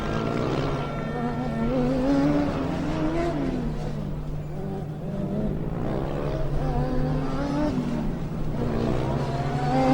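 Formula Student race cars lap the track during the Formula Student Germany endurance finals. Their high-pitched engines drone steadily and rise and fall in pitch as they rev and accelerate.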